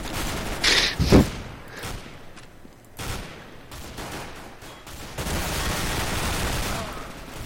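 Bursts of FAMAS rifle fire in Counter-Strike: Global Offensive's Arms Race mode, with a sharp volley early on and then a longer, steady stretch of rapid shots, loud and close among game noise.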